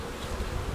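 Honey bees buzz close by at a swarm catch in an arborvitae, a dense, continuous droning hum that swells slightly toward the end.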